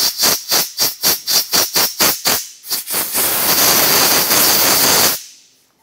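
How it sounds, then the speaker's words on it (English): Compressed air blasts debris out of a drilled-out steering knuckle on a 2003-2007 Honda Accord during an ABS wheel speed sensor replacement: about a dozen quick rhythmic puffs, then a loud sustained hiss lasting two seconds before cutting off. "go ahead and use some compressed air and make sure you remove any of the debris."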